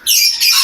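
A pet cockatiel or lovebird lets out a short, shrill, harsh squawk in two quick close bursts, loud and near.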